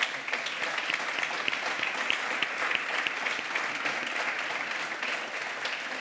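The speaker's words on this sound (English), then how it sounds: "Can I have a big round of applause for them," Sustained applause from a conference audience greeting panelists after a microfinance discussion, a steady dense patter of many hands clapping throughout with no voices over it.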